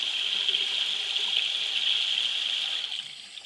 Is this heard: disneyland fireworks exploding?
no